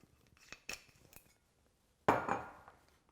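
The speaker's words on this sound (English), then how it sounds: "taking our ice, nice and tempered, and adding it into our drink" Tempered ice cubes drop into a rye whiskey cocktail, an Improved Whiskey Cocktail, with a loud burst of clinking and rattling against the glass that fades quickly, after softer faint clinks and taps.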